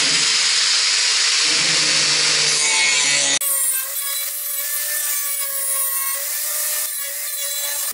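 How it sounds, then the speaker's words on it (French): A small angle grinder cuts welded sheet metal panels on a Citroën Traction 11B body, a loud, sustained high whine that shifts pitch as the disc bites and changes load, with no talking. "le but du jeu, c'est de les recouper après, avec une petite disqueuse"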